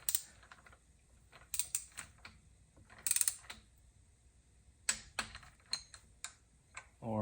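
A torque wrench clicks and ratchets as cam gear bolts are tightened on a Lexus/Toyota 2JZ-GE VVT-i engine, close and crisp in irregular bursts of clicking separated by quiet pauses.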